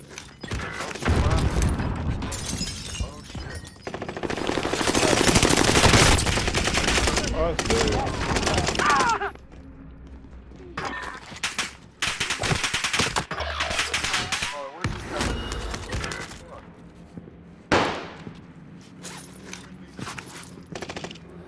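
Heavy gunfire in Call of Duty: Modern Warfare, with dense bursts of rapid automatic fire and explosions, loud and sustained at first, then scattered shots and quieter gaps, with voices talking between.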